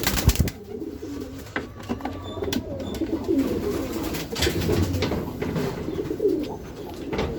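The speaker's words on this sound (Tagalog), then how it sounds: "So ayun na yung dalawang ibon natin guys." Two pigeons coo softly and repeatedly at close range, with occasional rustling and light clicks in the background.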